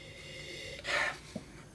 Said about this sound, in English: A little sniffy sniff